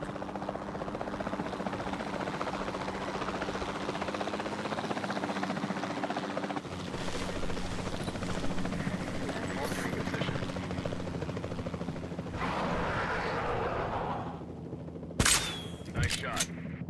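Capture team helicopter in a Jurassic World video game, a steady droning rotor hum throughout with gunfire-like shots near the end, and a voice talking over it at times.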